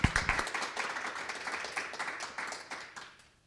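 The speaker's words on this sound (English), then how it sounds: "please give them a warm round of applause" Audience applause at a History Café event on a Black farmers collective, fairly loud clapping from a room of people that holds steady, then fades out over a few seconds.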